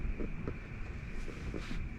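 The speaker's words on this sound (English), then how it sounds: "There was a wind gust." Desert wind in Desert Hot Springs buffets the microphone in a steady rumbling rush, with a few stronger gusting swells over a constant roar.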